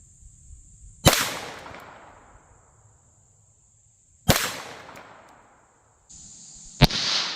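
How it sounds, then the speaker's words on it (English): Two sharp .22 Long Rifle pistol shots strike a concrete block outdoors, each a loud crack trailed by a decaying ring, with a third sharp report near the end over a steady high hiss. "here we go. 22 long rifle."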